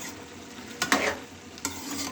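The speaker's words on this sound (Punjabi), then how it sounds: "ਅਸੀਂ ਇਹਨੂੰ ਚੰਗੀ ਤਰ੍ਹਾਂ ਉੱਪਰ ਥੱਲੇ ਕਰ ਲਾਂਗੇ ਤਾਂ ਜੋ ਥੱਲੇ ਵਾਲੀ ਸਬਜ਼ੀ ਵੀ ਚੰਗੀ ਤਰ੍ਹਾਂ ਗਲ ਸਕੇ" A pot of simmering potato, carrot and pea curry is stirred, giving a few short scraping and sloshing bursts over a low bubbling background, with no talking.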